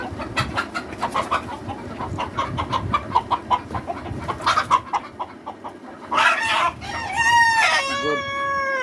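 Fayoumi laying-breed chickens on a poultry farm: rapid clucking from several birds over a busy farm background, followed near the end by a loud, close rooster crow with its drawn-out, wavering notes.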